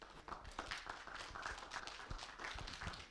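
Audience applause at an academic research conference session, a steady patter of many hands clapping at moderate distance with no speech over it.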